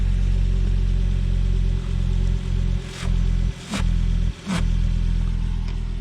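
A Volvo V70 non-turbo engine idles with a steady low rumble from the exhaust after a catalytic converter replacement, broken by three short bursts of revving spaced a second apart.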